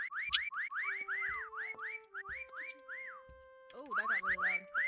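Within the Disney Dreamlight Valley game, a loud whistle repeats as a rapid series of rising and falling chirping tones, pausing briefly before starting again.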